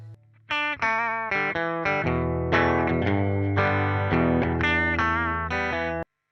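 A bass line played through an amp model on a Quad Cortex with blues-style settings, loud and continuous with distorted, chorus-tinged tone, sustained notes and a few quick picked changes, alone without talk.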